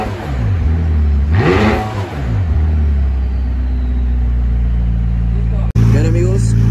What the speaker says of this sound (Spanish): ahora les voy a enseñar cómo suena este McLaren 600 LT